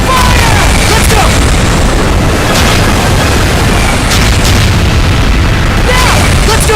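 Cannon blasts and explosions in the video game Ys X: Nordics form a loud, continuous stream of booms and bursts, with dense rumbling and repeated sharp pops throughout.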